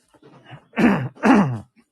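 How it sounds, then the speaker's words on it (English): Two forceful throat clearings, close and raspy, follow a soft preliminary rumble, with a short pause between them. "Try to clear my throat."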